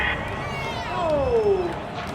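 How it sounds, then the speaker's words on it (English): Virtual home crowd in a Madden 21 football game, 49ers at Bears, roaring steadily in approval of a referee's flag call, a broad continuous swell of cheering with a whistle-like tone sliding downward midway. "This home crowd, they're happy with that call"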